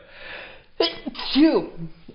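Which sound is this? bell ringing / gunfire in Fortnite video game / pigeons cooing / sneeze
sneeze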